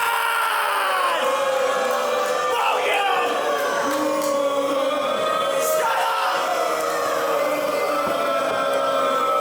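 Wrestling crowd at an indie show booing and jeering the heel team Hostile Collective during ring introductions, a loud continuous roar of many voices with shouts and yells rising throughout.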